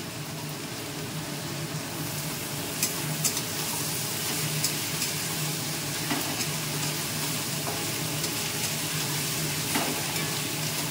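Onions with green chillies and cashews fry in a pan, a steady close sizzle with occasional stirring scrapes and small crackles running continuously with no talking.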